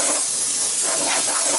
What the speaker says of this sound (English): Blow all this junk out with compressed air.